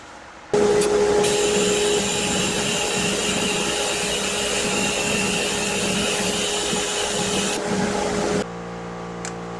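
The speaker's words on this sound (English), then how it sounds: "So let's sand it." Power sander working a piece of sinker cypress wood, a steady loud whine and rasping hum that starts abruptly, holds for about eight seconds, then drops to a lower motor tone as it winds down.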